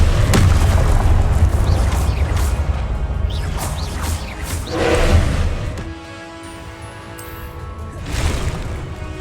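Confringo explosive spell blasts in Hogwarts Legacy, a loud booming burst near the start followed by several further crashing impacts and rumbling, dying down briefly before another blast near the end.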